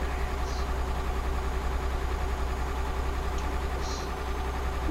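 A truck in a trucking video game idles with a steady, mid-level engine rumble, with a couple of faint short clicks on top.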